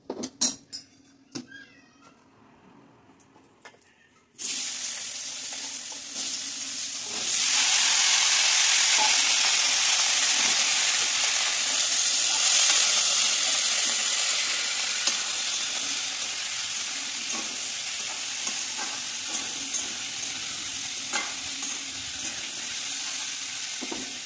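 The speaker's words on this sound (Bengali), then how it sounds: "তার আগে এখানে রাঁধুনি ফোড়ন দেওয়া হলো আর তেজপাতা। এটা একটুখানি ভাজা ভাজা হয়ে গেলে চাল কুমড়োগুলো দিয়ে দিতে হবে।" Radhuni seeds and bay leaf hit hot oil after a few quiet clinks, and a loud, continuous sizzle starts, swells further after a few seconds, then crackles on steadily.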